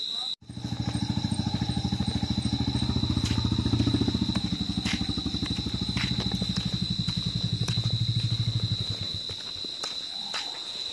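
A motorcycle engine runs steadily and fairly close for about nine seconds with a dense low throb, then cuts off, leaving a quieter tail with a faint high whine.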